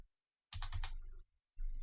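A short, quick burst of four or five close keyboard key clicks, then a pause and another brief tap, crisp and near with no talking.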